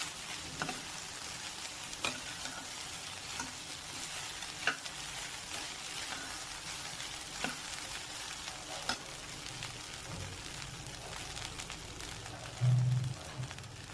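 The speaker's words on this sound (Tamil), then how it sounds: "அது இதில் போட்டு நல்லா மிக்ஸ் பண்ணி விட்டுருணும்" Cooked rice is mixed in a hot pan, with a faint steady sizzle and soft scraping stirs, plus occasional light clicks of the utensil against the pan.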